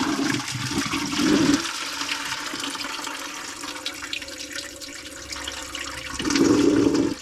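Engine coolant pours and gushes out of a Subaru during engine removal, a steady liquid rush with two louder, splashier surges at the start and end, close by with no talking.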